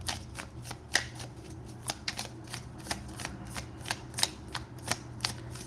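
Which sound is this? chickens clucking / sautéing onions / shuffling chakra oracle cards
shuffling chakra oracle cards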